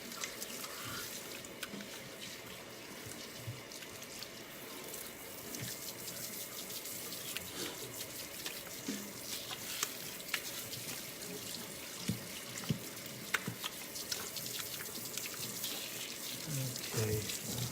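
Running water rinses a dog during a house-call grooming bath, a steady close splash and trickle with small drips and clatters and no clear talk over it.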